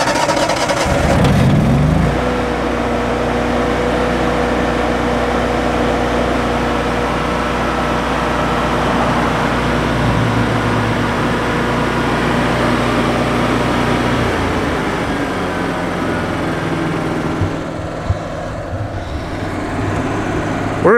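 A carbureted generator welder engine, already warm and running on regular 91-octane fuel at 8,500 feet elevation, fires up and settles into a steady, close mid-pitched drone that continues evenly before easing slightly near the end.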